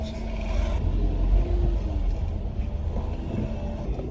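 Idling engine of a manual-transmission car waiting in a drive-thru lane, a steady low rumble close by that carries on without a break.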